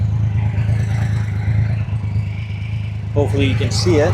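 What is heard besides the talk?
2025 Triumph Rocket 3 R with Storm Werkes exhaust revving at 2,000 RPM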